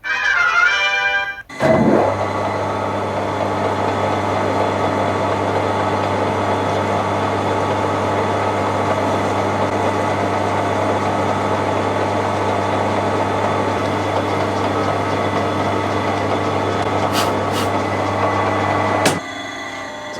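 Lathe running in a home workshop, a loud steady machine hum with a strong low drone that starts after a brief knock and runs continuously for about seventeen seconds before cutting out.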